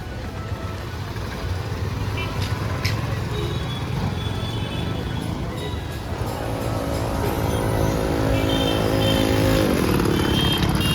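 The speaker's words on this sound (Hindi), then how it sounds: "स्टार्ट होने में भी ट्रबल दे रही गाड़ी थोड़ा" A motorcycle damaged in an accident, giving trouble starting; a rough background rumble gives way midway to an engine catching and running with a buzzing hum for a few seconds before fading.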